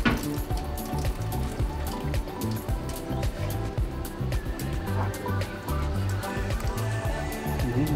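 Boiling water splashes and pours onto raw fish skin, blanching it, with a steady wet hiss and crackle over a low rumble. Close and fairly loud, with no talk.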